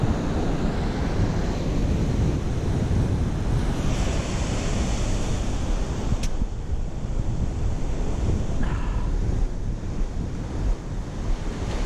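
Surf breaking and washing along Stockton Beach while beach fishing, a steady loud roar of waves with heavy wind buffeting the microphone throughout, no voices.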